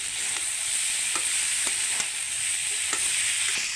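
Drumstick stems in a curry stirred in a hot pan, giving a loud continuous sizzle with regular soft scraping strokes of a spoon throughout.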